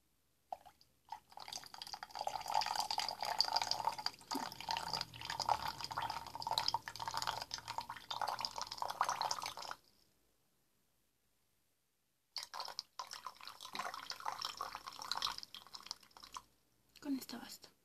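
Water drips and trickles close up during a facial-cleansing roleplay, with a run of soft wet, crackly sounds for about ten seconds, a pause, then more dripping, heard under occasional quiet talk.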